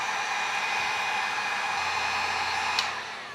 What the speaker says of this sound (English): Now we will be using a heat gun.